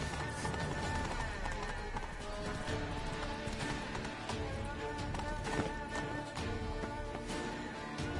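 Roach the horse gallops in The Witcher 3: Blood and Wine, a steady close drum of hooves running beneath continuous game music and ambience, with brief voice-like sounds woven in.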